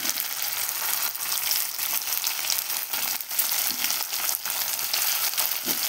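Rui fish frying in hot oil with browned onions and white sesame paste, a dense, continuous crackling sizzle that is close and loud throughout, with occasional louder pops and faint stirring touches.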